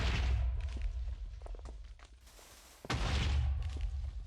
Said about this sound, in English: okay, that is a very big explosion.